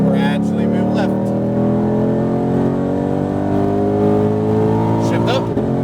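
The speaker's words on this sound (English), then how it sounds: "start squeezing on the gas out to the right, and accelerate" A Mustang Shelby GT500 accelerates out of a turn on a track, its engine note rising steadily and loud throughout, with a voice speaking over the roar.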